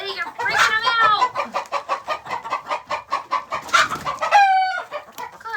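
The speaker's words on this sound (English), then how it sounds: "Betty, get out of the chicken coop." Chickens cluck in a steady stream of short calls inside a coop as they settle for the night, fairly close and lively, with a few louder squawks rising through the chatter.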